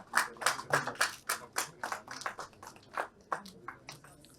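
Sparse audience clapping at a resilient-infrastructure seminar, a small group of distinct, uneven claps close by and fairly soft, slowing and thinning out over about four seconds.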